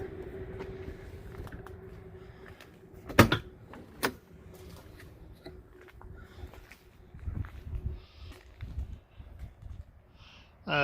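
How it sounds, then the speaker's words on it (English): Rear doors of a Dodge Ram Promaster camper van conversion are swung open, giving two sharp latch clunks a second apart in a quiet outdoor setting, followed by light shuffling and handling noises. "let's open the back doors here so you can get a look from the back"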